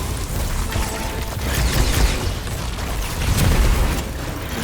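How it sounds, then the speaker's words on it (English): A grenade explosion in the Destiny 2 shooter, a dense, booming roar of blasts and crackling impacts that fills the whole stretch loudly and continuously, with no speech. "Prismatic, throw a grenade"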